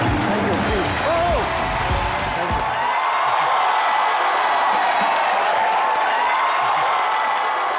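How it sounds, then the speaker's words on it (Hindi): Loud, sustained applause from a studio audience at a Hindi TV comedy show, a continuous wash of clapping and crowd noise filling the whole stretch, with a brief voice near the start. "Big round of applause."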